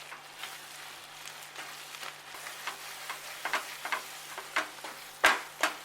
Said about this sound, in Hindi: खोया खदकना स्टार्ट हो गया है।